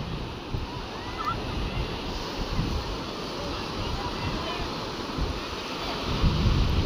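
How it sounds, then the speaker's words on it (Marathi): Sea waves wash onto the shore at Kunkeshwar beach as a steady, moderately loud surf rush with wind noise and a swell toward the end. "परत एक लाट येणार."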